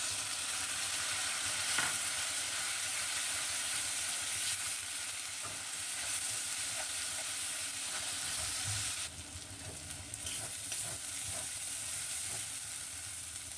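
Garlic and onion paste sizzles steadily in a pan for a chicken chaap, with occasional scrapes and clicks of stirring over a continuous close frying hiss; no one speaks.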